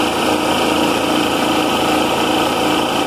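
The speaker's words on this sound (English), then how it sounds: "Engine did run, it ran all the way up to full throttle, the pump pumped it up" A small gasoline engine on a Campbell Hausfeld air compressor runs steadily and loudly at full throttle, a constant buzzing drone with a high whine, close by and uninterrupted.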